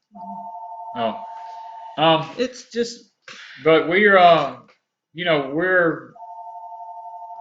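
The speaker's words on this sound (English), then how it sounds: "y'all have to excuse the phone in the background," A telephone rings in the background at home during a live evening stream. The steady electronic ring starts and stops around bursts of nearby talking.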